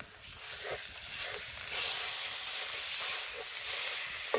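Quiet, steady hissing and crackling of ground beef frying in a hot Dutch oven over an open fire, soft and close, with faint pops scattered throughout.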